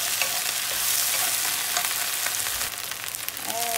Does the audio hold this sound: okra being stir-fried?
yes